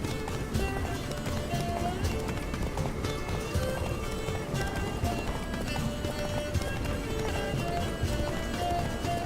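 Roach, a horse in The Witcher 3, gallops in a fast, rhythmic clatter of hooves that continues steadily throughout, mixed with game music and ambient sound.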